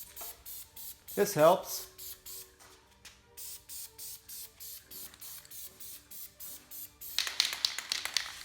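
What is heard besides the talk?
spray painting second coat on plastic wheel center caps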